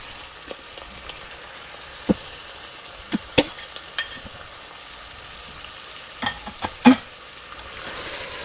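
Chicken keema with tomato and green chilli fries in a pan, a soft steady sizzle broken by occasional scrapes and clinks of a spoon stirring.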